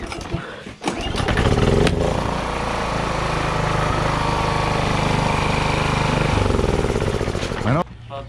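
A petrol generator under repair starts and then runs steadily at a loud, constant engine drone close by. A brief burst of cranking comes first and the clip ends with an abrupt drop.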